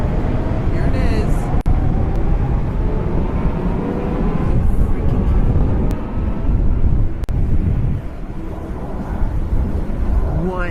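A loud aircraft roars overhead for the whole stretch, a broad rumbling drone that swells and fades slightly, with wind buffeting and occasional sharp clicks.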